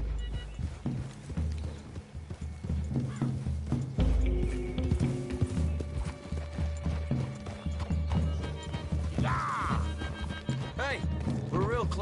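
Horses' hooves clip-clop at a trot through trees in a western video game, a steady rhythmic clatter with mechanical clicks and a whinny, under frequent character dialogue.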